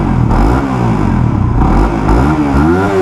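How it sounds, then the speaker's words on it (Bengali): A Suzuki GSX-R150 motorcycle with a DOHC engine revs close by, its loud mid-pitched drone rising and falling through steady throttle changes and continuing without a break. "আর GSXR এর ইঞ্জিন সাউন্ডটাও খুব সুন্দর, DOHC হওয়ার কারণে এটার সাউন্ডটা আরও একটু বেটার হয়।"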